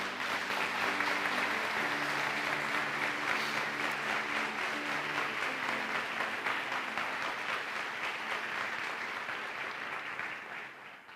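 Sustained applause at a church program in Uberaba, Brazil: a broad, even wash of clapping heard at a distance and fairly quiet, with a faint tonal hum beneath it, slowly fading toward the end.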